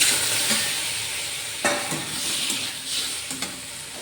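Chopped tomatoes and green chili stirred and sizzling in a frying pan for tomato soup: a close, steady hiss of frying with a few scraping stirs and soft clinks, no voices.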